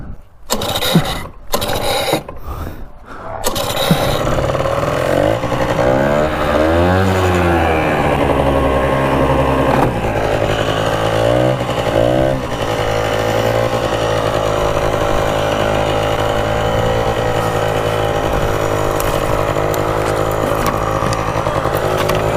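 A Rokon 2x2 motorcycle engine starts with a few sharp bursts, then runs steadily as it pulls away in second gear, a loud buzzing drone with brief pitch swells, close by and without talk.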